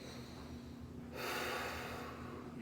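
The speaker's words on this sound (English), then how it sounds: "Nice long nasal breaths," During a squat and floor angel exercise, a person draws long, slow breaths through the nose. The breathing is close and soft at first, then swells into a louder, airy rush partway through, with no talking.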